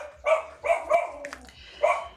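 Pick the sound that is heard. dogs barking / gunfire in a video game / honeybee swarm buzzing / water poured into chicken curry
dogs barking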